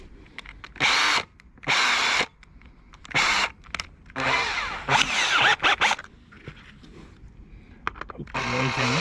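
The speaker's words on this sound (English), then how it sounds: "What you do is you just put this in the drill." A drill spins a razor wheel to strip leftover car badge adhesive from a boot lid, running in several short loud whirring bursts separated by quieter pauses.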